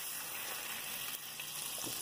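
Oil and butter sizzle in a hot pan as sautéed mushrooms get started, a steady bright hiss that holds evenly throughout with no voices over it.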